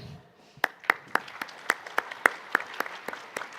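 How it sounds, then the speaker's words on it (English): An audience at the Global Space Exploration Conference in New Delhi gives a panel thin, scattered applause: a dozen or so crisp single claps, spaced and fairly quiet, in a large hall. "Please let us applaud my distinguished panel."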